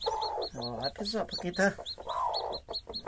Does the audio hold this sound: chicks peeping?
yes